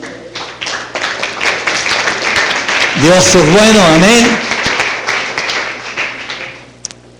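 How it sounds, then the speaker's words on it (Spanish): Church congregation clapping along, a fast steady rhythm of hand claps throughout, with a voice speaking over it and a sung or drawn-out vocal line in the middle. "Dele palmas al Señor, hermano."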